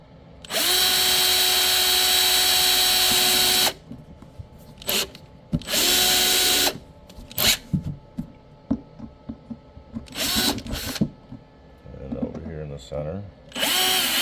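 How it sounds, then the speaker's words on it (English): A 1/8 inch drill bit bores a hole through the center of a 10-inch adapter ring for a 1998-onward Harley, the drill whining loudly in steady bursts near the mic, with a short spoken remark between runs. "I'm just going to drill a hole right here in the center."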